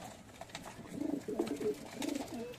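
Giribaz and Madrasi pigeons in a loft give several distinct throaty coos in short rolling phrases, close by, over a faint background of shuffling and light knocks.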